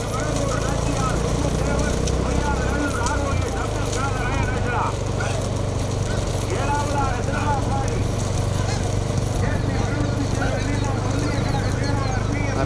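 Bulls pull carts in a big-bull cart race, a steady drumming of hooves and rumbling wheels under continuous shouting voices, loud and close throughout.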